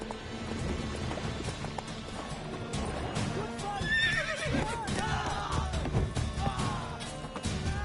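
Roach the horse neighing and galloping in The Witcher 3, with rhythmic hoofbeats under a loud whinny and a busy game soundscape, plus some talking.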